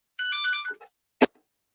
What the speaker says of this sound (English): let me grab that phone and unhook it